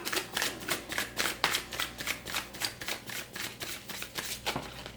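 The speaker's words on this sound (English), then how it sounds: "Continuing to do this raw shuffle for you." A deck of tarot cards is shuffled by hand, a steady run of quick riffling bursts that repeat in a close, soft rhythm with no voices over them.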